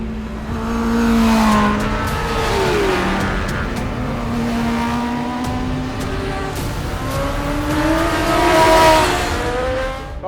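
A Bimota KB998 Rimini superbike lapping Cadwell Park circuit, its engine loud and close, revving up and down through rising and falling pitch sweeps across the whole stretch, with no talk.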